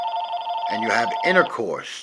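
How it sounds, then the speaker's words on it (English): A telephone bell rings indoors, a steady electronic trill heard alone at first and then continuing under someone talking. "That's my telephone, don't worry about it."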